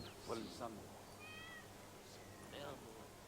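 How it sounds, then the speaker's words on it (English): A cat meows a few times near a building quarry setting, short thin cries heard faintly under people talking nearby. "I heard a cat."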